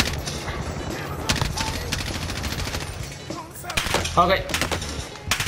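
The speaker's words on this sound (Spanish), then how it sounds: "me están disparando" Gunfire in a Call of Duty Warzone match comes in short, scattered bursts, moderately loud with a few sharper shots near the end, while a player speaks briefly.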